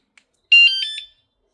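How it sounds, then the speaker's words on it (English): A bike security alarm gives a faint tick, then a burst of loud, shrill electronic beeps in a quick run of four pulses that fade out, close and alone. "And also got this handy dandy alarm."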